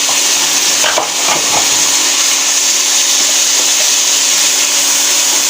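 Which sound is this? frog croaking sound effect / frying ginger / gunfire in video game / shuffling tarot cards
frying ginger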